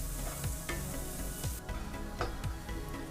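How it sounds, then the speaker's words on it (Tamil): Dried sundakkai berries roasting in sesame oil give a soft, continuous sizzle with scattered pops and clicks of stirring in the pan, fairly quiet. "நல்லெண்ணெயிலேயே நம்ம சுண்டக்காய் வத்தலை வறுத்து எடுத்துக்கலாம்."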